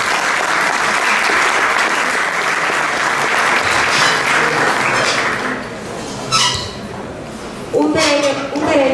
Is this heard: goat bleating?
no